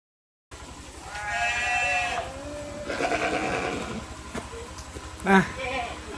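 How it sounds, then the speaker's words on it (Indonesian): Goats bleat in a university livestock-program goat pen, with several harmonic cries over steady low pen noise and a short louder call near the end, while a person talks throughout. "sekarang lagi ada di kandang kambing dari program studi peternakan Fakultas Peternakan UTH Jember Kampus Bondowoso. Udah kedengaran kan?"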